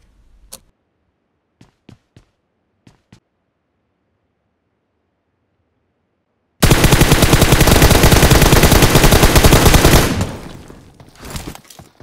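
PUBG Mobile gunfire: a few sharp single shots with gaps between them, then a long loud burst of rapid automatic fire that cuts off and fades, followed by some faint trailing noises.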